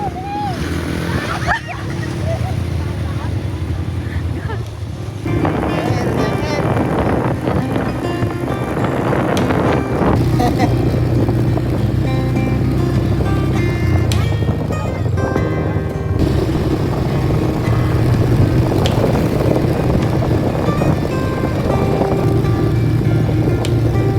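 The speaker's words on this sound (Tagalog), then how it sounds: "apakalakas nga din ng ulan ay ng hangin" Heavy rain and strong wind at a river picnic spot in Gabaldon, Nueva Ecija, heard as a loud, steady roar of wind buffeting the microphone throughout, with someone talking over it.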